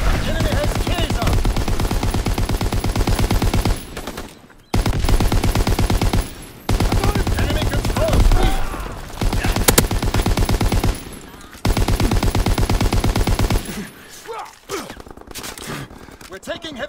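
Sustained machine gun bursts in a WWII shooter set in the Shipment 1944 map, loud and dense with only short breaks, mixed with battlefield shouting and speech.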